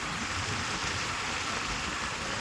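Rain falls steadily on a road during a sudden shower, a dense, even hiss that stays loud and constant throughout with a low rumble underneath and no talking.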